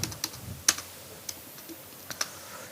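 Keys clatter on a computer keyboard at close range in a quiet room, with several light, scattered taps and one sharper, louder keystroke.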